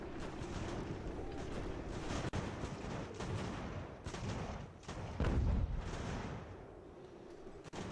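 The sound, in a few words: artillery fire in the video game Ultimate General: American Revolution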